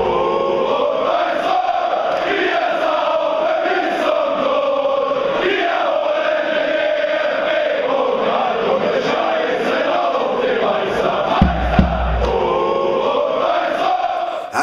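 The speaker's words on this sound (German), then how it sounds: "Dieses erst nur singen und dann singen und klatschen zusammen." Fans of 1. FC Kaiserslautern sing a chant together in a stadium, a dense, steady mass of voices that carries on for the whole stretch, with a few sharp claps breaking through near the end.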